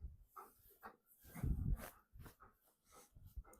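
A dog named Snow snuffles, breathes and whimpers faintly nearby in soft, irregular bursts, with low handling noise and no talk.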